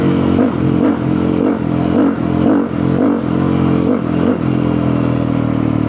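A supermoto motorcycle's exhaust revs in a run of repeated throttle blips, loud and close, over a steady rumbling idle on a sunny-day ride.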